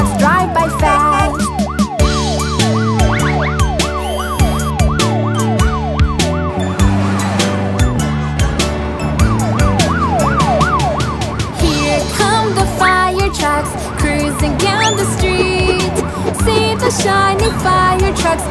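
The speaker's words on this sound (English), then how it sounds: "Hear the sirens shout real loud, let our trucks move past." A cartoon-style fire truck siren wails in rising and falling sweeps over a loud, bouncy children's song with steady beat and melody, continuous throughout.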